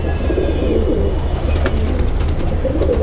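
Caged pigeons coo continuously at close range, a low soft rolling murmur with a few faint higher chirps, no talking.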